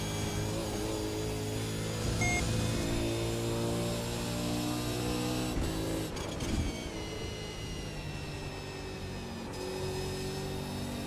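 A race car engine drones steadily as the car leaves the pit lane at Road Atlanta, a continuous loud tone with shifting pitch and a brief rise in revs midway.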